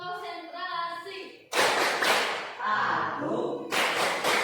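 An Indonesian school class performs a rhythmic concentration clapping routine. Loud bursts of group hand claps come in sharp, dense clusters, with chanting voices in between.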